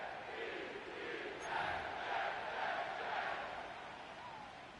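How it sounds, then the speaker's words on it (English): Inside MetLife Stadium in the Madden 25 football video game, a large crowd roars and cheers in a sustained, swelling wash of noise before kickoff, with no clear talking over it. "The crowd is definitely ready."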